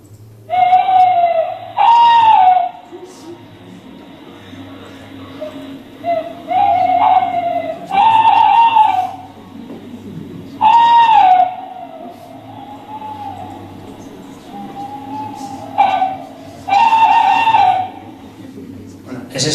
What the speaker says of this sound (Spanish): suena siempre un cárabo